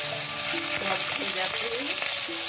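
Onion frying in hot oil for rajma, a strong steady sizzle with spatula stirring clinks and scrapes, close and loud throughout, no one speaking.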